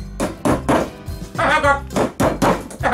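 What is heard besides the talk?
hammering a nail with a hammer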